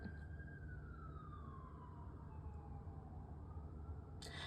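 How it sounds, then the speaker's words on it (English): A siren wails faintly in the distance, its pitch sliding slowly downward beneath a low steady background hum. "sorry, you can hear the sirens."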